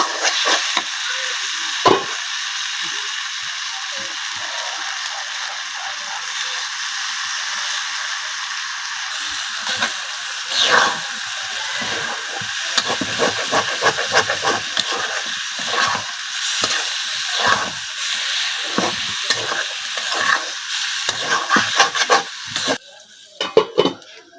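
Potatoes fry in a pan in a home kitchen, giving a steady loud sizzle with frequent scrapes and clatters of stirring, close up, with no talk.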